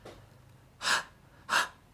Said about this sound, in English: like as if someone's having like panic breaths